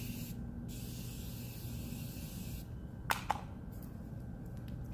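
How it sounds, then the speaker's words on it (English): Two quick sharp spritzes of Morphe Continuous Setting Mist sprayed onto a face, brief and close against a quiet background hiss, with no talk. "Now to set it and forget it with our Morphe Continuous Setting Mist."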